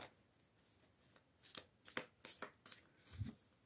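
Tarot cards are shuffled and drawn by hand in a quiet room: a soft, irregular run of papery riffles and flicks, ending with a duller thump as the cards are set down.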